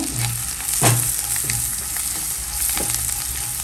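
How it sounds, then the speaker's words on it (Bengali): Chopped garlic fries in hot oil, giving a steady close sizzle with a couple of louder bursts as it is tossed, heard alone without voices. "ভাজি ভাজি করে নেবো রসুনটাও"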